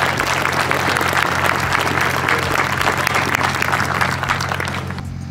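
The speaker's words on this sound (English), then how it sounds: "let's give Chris and his crew a round of applause for the course" Dense, sustained applause from a crowd at the 2023 Mammoth Sniper Challenge at Fort Gordon, honoring the course crew, fills the whole stretch at steady loudness before easing slightly at the very end.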